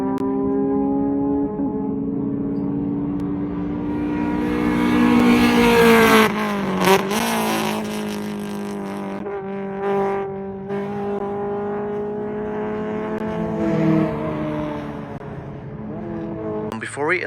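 A 1998 Honda EK Civic time attack car runs at a track, its engine droning and revving steadily with rising and falling pitch, under continuous talk.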